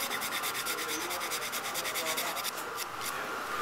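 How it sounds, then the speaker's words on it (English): Repeated back-and-forth rasping strokes of sandpaper rubbing on wood, steady and close up, in an even rhythm. "Now you're going to want to sand"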